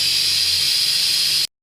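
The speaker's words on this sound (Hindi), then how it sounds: "अब हम कुकर खोलते हैं।" Steam hisses steadily and loudly from a pressure cooker just opened after cooking mutton, a continuous bright rush that cuts off abruptly at the end.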